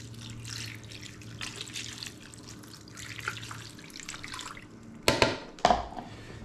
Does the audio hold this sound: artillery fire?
no